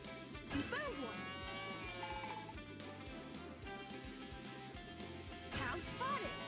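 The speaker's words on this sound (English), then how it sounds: "Cow spotted!" A cartoon cow in a Paw Patrol video game gives two bright, drawn-out moos, one near the start and another near the end, over busy game music and effects.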